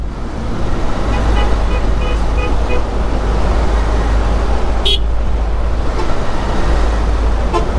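A bus passes close alongside in road traffic while travelling toward Comilla and Chittagong. A steady, loud engine and road roar fills the scene, with a short horn toot about two-thirds of the way through.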